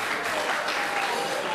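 Warm applause for the groom Jarek at a wedding, a brief, steady burst of many guests clapping together, fairly close and even in level throughout.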